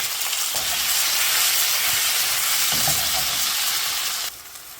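A pound of fresh tomatoes cooks down in a hot pan for a courgette arrabbiata, giving a loud, dense, continuous sizzle that drops sharply in volume just before the end, with no voices.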